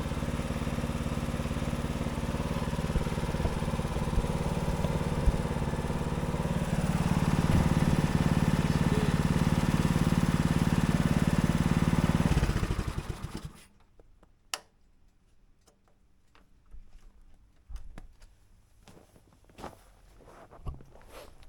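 A Husqvarna ST 124 engine runs after a cold start with a freshly cleaned governor and pilot jet. It drones steadily, rises in speed partway through, then shuts off, leaving quiet clicks and shuffling footsteps.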